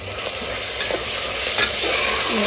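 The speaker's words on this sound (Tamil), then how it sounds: "நல்லா மிக்ஸ் பண்ணிக்கலாம் ஸோ வெங்காயம் தக்காளிலாம் பாருங்கள் நல்லா வதங்கிடுச்சு" Onions and tomatoes frying in a pan for chicken biryani, with a loud, close, continuous sizzle and spatula stirring scrapes, ending in a brief rising squeak.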